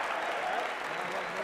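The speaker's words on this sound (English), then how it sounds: "You can hear the applause in the background." Crowd applause fills a college basketball arena at a Utah Tech versus Utah State game, a steady wash of clapping under a commentator's voice.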